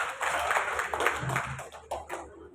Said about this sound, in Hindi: लाखाराम जी गुजर का जोरदार तालियों से स्वागत करें